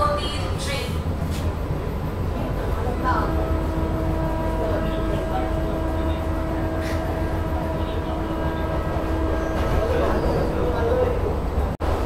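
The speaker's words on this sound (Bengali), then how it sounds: "এটা কিন্তু ফাস্ট এসি লোকাল" A fast AC local train from Sealdah to Krishnanagar City Junction in West Bengal gives a loud, steady rumble for the whole ride, heard from inside the carriage with a sustained hum and faint background voices.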